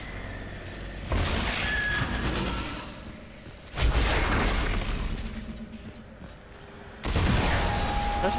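Gunfire in Red Faction Armageddon, plasma weapons against an alien: sustained loud bursts of shooting in three waves, each starting abruptly and tailing off, with faint whines and thuds behind.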